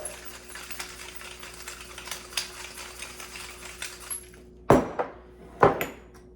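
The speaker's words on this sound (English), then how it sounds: "I'm just gonna do a couple rounds of fresh ground pepper" A pepper mill grinds a couple of rounds of fresh black pepper in a home kitchen, with quick ratcheting clicks followed by two louder, crunchy grinding bursts close by.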